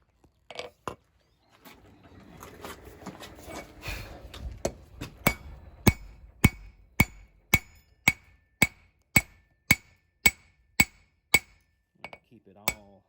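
A hammer strikes a hot steel billet on an anvil while a knife blade is being forged. After some softer shuffling, about a dozen sharp, ringing metallic blows land in an even, steady rhythm, close and loud.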